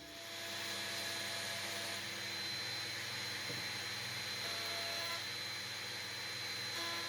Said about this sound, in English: I've trimmed all the edges that I think need trimming with a trim router